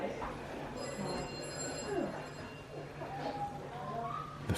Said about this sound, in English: The phones you're hearing,